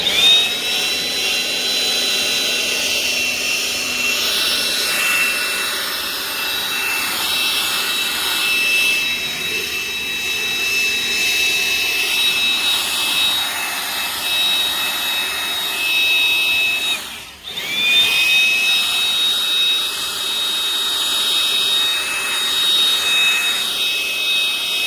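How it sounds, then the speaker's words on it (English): DeWalt 20V Gen 2 brushless cordless leaf blower (DCBL722P1) running continuously outdoors on leaves: a loud, steady high-pitched whine and air rush, close to the listener, with a brief dip near the end and no talk. "Again, 20-volt blower."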